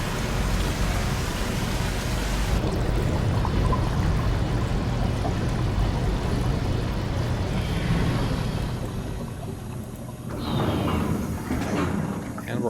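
Water floods a pressurized zone in the video game SOMA, a loud rushing pour that starts abruptly and roars steadily, easing somewhat before a mechanical clunk near the end.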